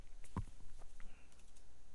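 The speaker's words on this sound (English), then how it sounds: "we can start typing immediately" Typing on a computer keyboard while entering text into a spreadsheet cell, quiet scattered clicks and taps with one sharper keystroke near the start, close and otherwise alone.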